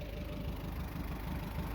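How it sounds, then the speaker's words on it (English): Tractor engine running under load while plowing a field, a steady low rumbling drone with a regular throbbing pulse, continuous and fairly close with no talk over it. "The engine's running cool, has good oil pressure, no weird noises, clutches seem good"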